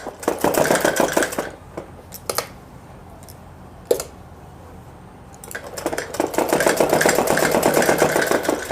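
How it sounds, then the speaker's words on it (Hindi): A sewing machine stitches a suit sleeve in two long bursts of rapid, rattling needle strokes, close and loud, separated by a quieter pause with a few clicks and knocks as the fabric is adjusted. "अब इस पर हम सिलाई लगा देंगे।"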